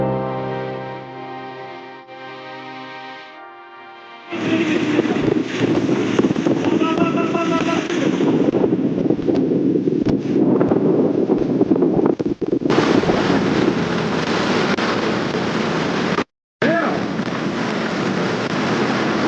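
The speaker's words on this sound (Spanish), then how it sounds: "El viento arranca árboles como si fueran palillos." Strong wind roars and buffets the microphone in heavy gusts, cutting out briefly near the end; soft tonal music plays faintly at the start.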